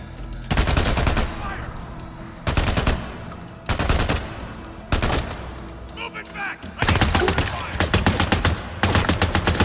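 Repeated bursts of automatic gunfire from the video game Days Gone's final battle, loud and close, coming in several sustained volleys with short pauses between them.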